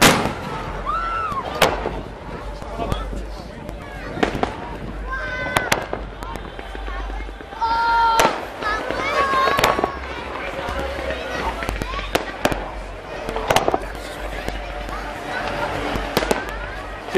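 Fireworks at a music-accompanied display pop and bang repeatedly at a distance, scattered sharp reports over a steady low rumble and crowd noise, with people talking nearby.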